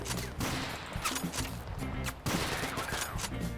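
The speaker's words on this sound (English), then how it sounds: "He just spams a bunch of rockets and leaves." A helicopter in a Mount & Blade–style war game fires a barrage of rockets, a dense, continuous volley of bangs and whooshes at close range, with a brief dip before another loud burst.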